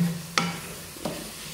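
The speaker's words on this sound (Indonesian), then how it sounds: "Aduk sampai airnya benar-benar habis ya" Sacrificial (qurban) meat being stirred in a pan until its liquid cooks off, with two distinct scraping strokes of a utensil over a soft background sizzle, close and without talk.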